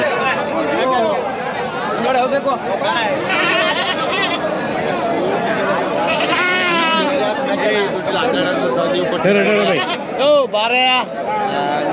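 Goats bleat repeatedly amid a busy crowd at the Magadi goat and sheep market near Bangalore, their wavering cries rising over constant chatter and nearby voices.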